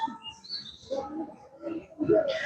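Black crows call in a Bangkok city park, a few harsh nearby caws and squawks rising in a brief cluster over quiet outdoor background.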